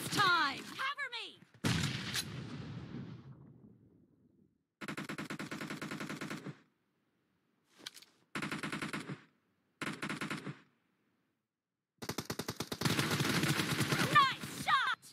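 An M416 assault rifle fires in a team deathmatch video game, in loud automatic bursts separated by short silences, with occasional single shots and sharp impacts.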